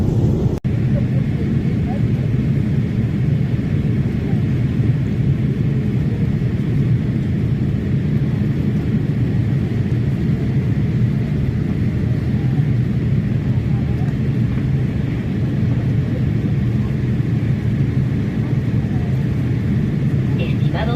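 A steady, loud cabin rumble from an airliner in flight fills the whole stretch, a constant low roar and hiss with no break, while a voice talks over it.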